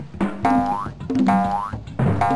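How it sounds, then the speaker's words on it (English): Three bouncy, twangy drum hits with a rising pitch sweep from a Putt-Putt video game, evenly spaced and loud, like cartoonish game sound effects. "I forgot how cool the drum sound effects are."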